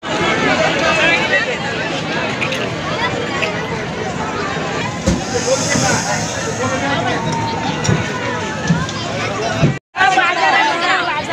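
Crowd hubbub at the Harnai fish market auction, a dense, steady babble of many voices close by with shouts and clatter, and nearby speakers talking throughout.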